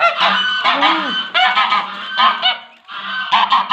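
Several geese honk loudly and close by in a series of harsh, overlapping calls, with brief pauses between bursts.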